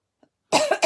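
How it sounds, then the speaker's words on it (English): A single short, sharp cough close to the microphone, preceded by a brief faint sound and followed by a second quick burst. "I still have a bit of my cough, not much, but just a little bit"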